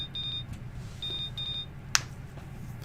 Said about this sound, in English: Stanley's cell rang.